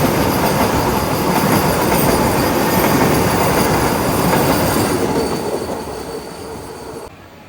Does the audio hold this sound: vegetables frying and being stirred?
no